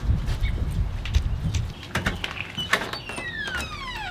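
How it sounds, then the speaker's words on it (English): Outside an empty house just bought, a loud bird calls repeatedly from close by, bright descending chirps and whistles that grow busier toward the end over low outdoor rumble. "There is a bird being so loud out here."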